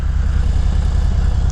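A motorcycle engine lugs at very low RPM in too high a gear, a loud, steady low rumble close by that sounds on the verge of stalling.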